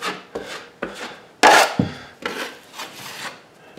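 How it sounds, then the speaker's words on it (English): Fast-setting 20-minute hot mud joint compound spread over a drywall patch for a second coat, heard as a series of short, close scraping strokes of a knife or trowel, one louder swipe in the middle. "let's put the second coat on the drywall patch with the hot mud"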